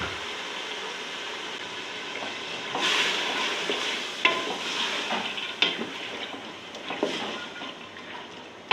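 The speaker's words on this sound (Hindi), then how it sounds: "तकरीबन चने की दाल को मैं भून लेती हूँ तकरीबन 5 मिनट" Chana dal crackles and sizzles as it is roasted in spiced masala in a pan, with steady frying noise broken by several sharp scrapes and stirring clinks of a spoon.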